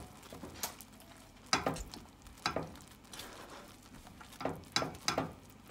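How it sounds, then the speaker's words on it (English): A spoon stirs grated cheese into a potato, broccoli and cauliflower casserole, making soft, close, irregular scraping and clinking strokes over a quiet bubbling sizzle. "I'm just gonna mix this in until the cheese is melted"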